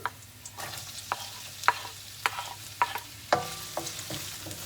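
Onion fries in a pan for fried rice, a low sizzle under regular metallic clinks and scrapes of a spatula stirring about twice a second, close and unaccompanied by speech.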